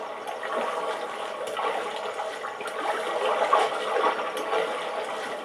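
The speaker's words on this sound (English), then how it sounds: "Jump in the water." Water from Link jumping into it in Zelda Breath of the Wild, heard as a steady rushing, splashing wash of water that stays at moderate loudness throughout.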